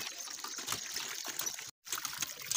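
Water gushes from a hand pump beside a river, a steady splashing trickle that runs close and loud, cut by one brief silent break before flowing on.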